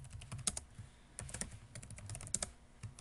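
Rapid clicks and taps on a computer keyboard and mouse while drafting in SolidWorks 2018 software, coming in irregular bursts of keystrokes over a quiet room background.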